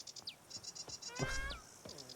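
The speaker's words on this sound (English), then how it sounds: "They just straight up say meow." A cat's meow in The Witcher 3: Blood and Wine, a short wavering animal cry heard faintly amid chirping insects and soft ambient game sounds, with a brief rising call midway.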